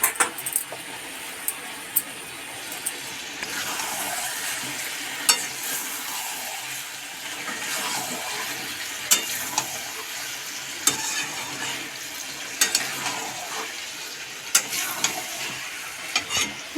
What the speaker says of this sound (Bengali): আর একবার খুলে আর একবার নেড়ে দিয়ে দাও